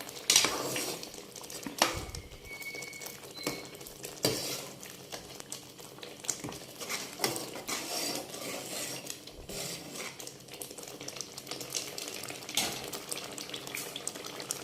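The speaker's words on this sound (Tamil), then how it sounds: "பன்னீர் உடஞ்சிடாமல் சும்மா லைட்டாக அப்படி கிளறி கொடுக்கணும்" Paneer being gently stirred into butter masala gravy in a pan, giving soft continuous scraping and clinking of a spoon against metal with some wet sloshing, close and steady with no voices.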